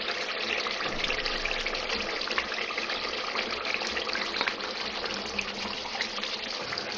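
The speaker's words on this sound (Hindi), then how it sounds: "चिकन डाल के मैं इसको भूनूंगी थोड़ा सा ताकि चिकन में भी फ्लेवर आ जाए" Chicken goes into oil-separated masala in a handi pot for Bihari chicken curry, giving a dense, even sizzle that holds close and loud. No one talks over it.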